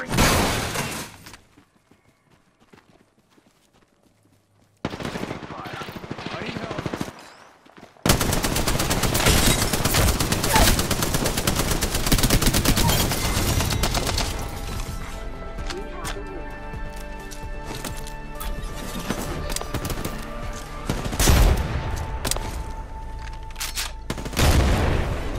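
Dense, sustained gunfire from Apex Legends, with rapid automatic bursts and sharp cracks filling most of the stretch after a quiet opening, plus a heavy boom near the end.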